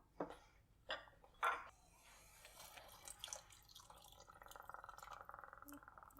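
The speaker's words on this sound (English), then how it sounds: "I'm just going to add a little bit, probably about a half a cup of water to this as well" Water is poured into a pot of bulgur, making a few splashes and drips followed by a steady trickle while a person speaks softly.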